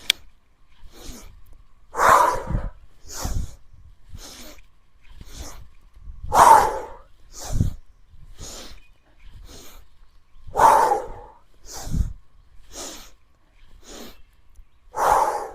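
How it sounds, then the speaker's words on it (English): Deep, forceful breaths repeat in a slow cycle during a pranayama breathing exercise, with sharp inhales and heavy, airy exhales through the mouth, close to the microphone and separated by short quiet gaps. "inhale at the side, inhale at the top, deep exhale"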